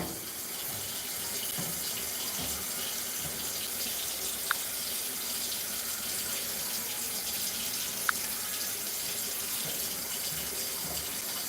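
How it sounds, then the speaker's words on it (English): Kitchen tap water runs steadily into a sink while migas are being made, a constant close rushing wash with no talk over it and two faint brief clicks partway through. "Oh, I should probably turn off the water, right?"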